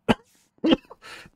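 A person coughs three times in quick, separate bursts, close and fairly loud, with the last cough rougher and more breathy.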